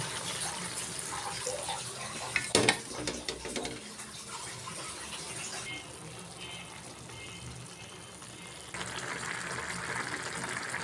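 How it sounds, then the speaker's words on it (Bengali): A small splash of water goes into a pan of prawns cooking with Malabar spinach, a brief rush and sizzle followed by steady bubbling and a faucet-like hiss, with faint talk in the background. "অল্প একটু জল দিয়ে দিবি"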